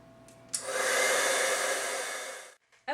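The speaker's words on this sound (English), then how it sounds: "I'm just going to take my heat gun to it now and emboss these" A heat gun switches on and blows with a loud, close, steady whoosh for about two seconds while melting clear embossing powder on a stamped card, then cuts off.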